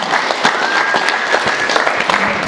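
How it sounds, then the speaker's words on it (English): A conference audience claps, a crisp crowd applause that carries loud and even from start to finish, with no one speaking over it. "Let's give him a clap"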